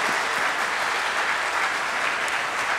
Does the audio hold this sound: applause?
yes